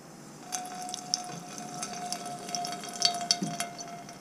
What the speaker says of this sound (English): Actually, I think I'm gonna put a little water,